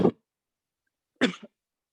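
Two short coughs separated by about a second of silence, close and fairly loud, the second a little longer with a rough tail.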